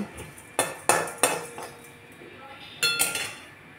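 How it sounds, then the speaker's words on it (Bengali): Whole spices dry-roasting in a kadai, a handful of sharp metallic scrapes and clinks of a spoon against the wok, close and fairly loud, with quiet gaps between strokes. "এরকম ভাজছি পুরো কড়াইয়ের মধ্যে"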